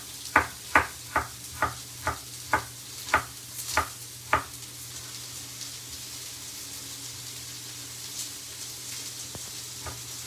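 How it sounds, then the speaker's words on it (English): A knife finely chopping ginger on a board, about ten quick evenly spaced knocks near and clear over the first four seconds, then quiet kitchen hiss with a few faint scattered taps. "I'm going to finely chop this ginger."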